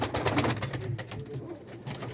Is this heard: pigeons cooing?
yes